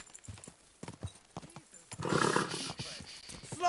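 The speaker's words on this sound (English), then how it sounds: "Easy, good horse." A horse gallops in the medieval video game Kingdom Come Deliverance 2, hooves clip-clopping in a quick rhythm up close, followed by a loud whinny and a burst of rougher noise partway through.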